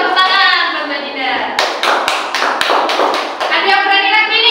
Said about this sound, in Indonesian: Tepuk tangan buat Mbak Dinda.